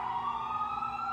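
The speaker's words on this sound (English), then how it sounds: "sorry, ambulance" An ambulance siren wails steadily from a residential area near a hospital, a single sustained tone heard at moderate distance.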